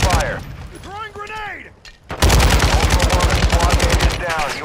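Gunfire in a first-person shooter game, bursts of rapid automatic shots close and loud, broken by a brief pause and mixed with game voice effects.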